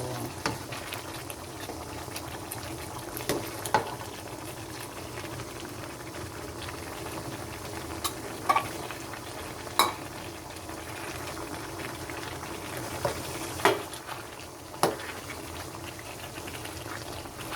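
Pork pochero with cabbage stirred in a pot, a low steady simmer with occasional clinks and scrapes of the spoon against the pot, moderately close with no talking.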